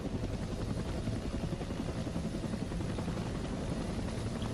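Steady, loud helicopter rotor and engine drone from an attack helicopter in a combat flight video game, continuous and close with no talk.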